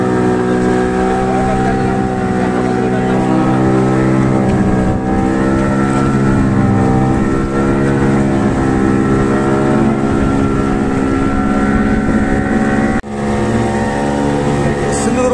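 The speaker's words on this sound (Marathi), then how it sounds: "ह्या साईडला इकडं आपलं सिंधुदुर्ग बोट निघालेली आहे सिंधुदुर्ग किल्ल्याकडं" A motor boat setting off from shore toward Sindhudurg sea fort, its engine droning steadily and loudly throughout with a continuous low hum, a brief dip near the end.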